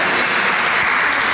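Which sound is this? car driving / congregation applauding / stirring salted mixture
congregation applauding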